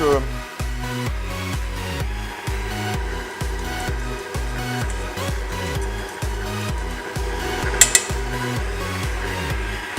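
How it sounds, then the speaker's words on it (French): A kitchen stand mixer kneads burger bun dough, its motor and hook thumping in a steady, regular mechanical rhythm close by, with a couple of brief sharp clinks partway through. "maintenant on fait bien sûr tourner le robot. Ça va faire un tout petit peu de bruit"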